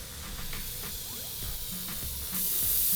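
Steady broadband hiss from a steam cleaner working on a car, continuous throughout and swelling louder near the end, with faint clatter underneath.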